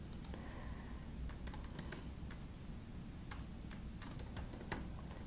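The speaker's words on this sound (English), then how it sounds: "You can type in some basic information." Steady typing on a computer keyboard while entering employee details into payroll software, a run of quick irregular clicks heard close up over a constant background hum.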